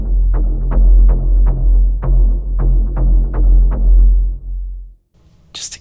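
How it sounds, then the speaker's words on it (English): A heavy, distorted synth bass thumps in a steady rhythmic pulse for several seconds, then stops, leaving a brief high swish at the end. "and then this distorted thumper as a bass"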